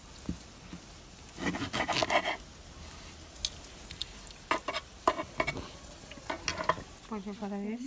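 Meat sizzles on a barbecue grill at a Sunday lunch, a soft steady crackle with scraping and clattering bursts and a few sharp clinks, moderately near, with no talk over it.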